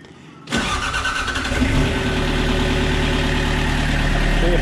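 An excavator engine cranks and fires after a brief silence, then settles into a steady, loud, rumbling idle that continues to the end.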